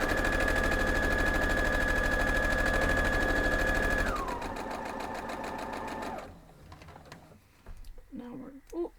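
A sewing machine runs rapidly and steadily across a 12-inch Coxey's Camp quilt block, slows toward the end and stops, followed by light handling sounds and a brief voice.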